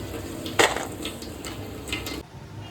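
Rice-flour kurkure sizzling in hot oil as they are lifted out, a steady crackling fry with a sharp scrape of a utensil near the start and light clinks, close and fairly loud.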